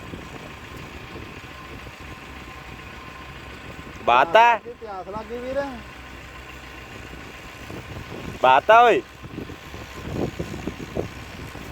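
A steady low engine rumbles and idles throughout while a couple of people talk over it.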